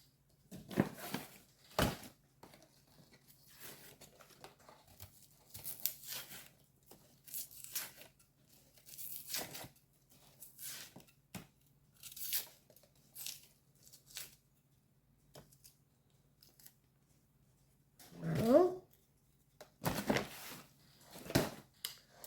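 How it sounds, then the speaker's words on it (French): An onion is peeled by hand for a Greek chicken recipe, giving soft, scattered papery crackles and tearing sounds in irregular bursts, close and quiet, with one louder rustle near the end. "L'oignon coupé. Voilà. Je vais l'éplucher."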